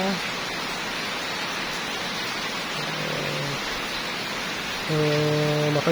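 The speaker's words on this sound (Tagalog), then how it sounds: "Matagal na din na hindi nakaulan, mga idol. Buti na lang ngayon, umulan na." Steady rain falls on a garden with moringa trees, a broad continuous hiss throughout, with brief low tonal hums and faint voices joining near the end.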